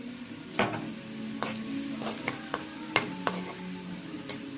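Mustard seeds, cumin, garlic, dried red chilli and turmeric tempering in hot ghee for a mixed dal, with sharp crackling pops scattered irregularly over a steady low sizzle, close and moderately loud, no voices.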